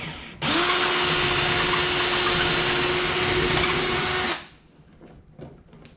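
A power drill whines loudly and steadily for about four seconds, enlarging a hole in a rudder foot-control part for a Vibe Shearwater 125 kayak, then spins down and stops.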